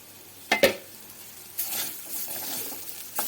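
Banana stem fries with shrimp in a pan: two sharp clinks of a utensil, then a soft sizzle swells as it is stirred, ending with another brief scrape, all fairly quiet.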